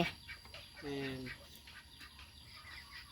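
Farm ducks in a backyard animal pen give a short quack near the start, with faint bird calls and low background noise around it.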